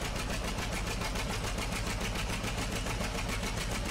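A diesel tractor engine roars at full revs, a loud, steady, rapidly pulsing drone up close with no pauses.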